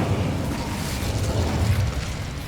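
Incendio fire spell cast in Hogwarts Legacy: a dense, roaring burst of flame that stays loud and even for the whole couple of seconds, with no voice present.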